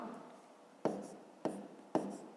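A pen or pencil writes down an answer in a fifth-grade maths exercise, three sharp taps and short strokes on paper standing out over a soft background hiss.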